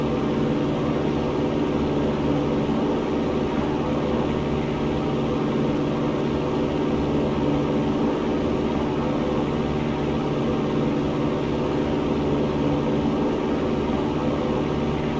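A small propeller airplane climbing out after takeoff at about 85 knots on runway heading, heard as a steady, loud, unbroken engine drone and broadband roar from inside the cockpit, with no talk.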